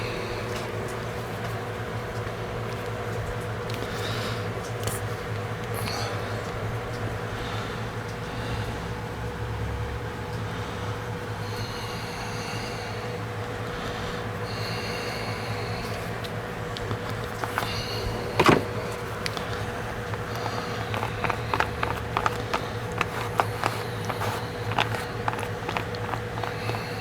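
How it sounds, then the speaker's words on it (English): A fan runs steadily in the background of a workshop building a Quorn tool and cutter grinder, a constant droning hum with a few faint clicks and knocks late on. "Sorry for that fan noise running in the background."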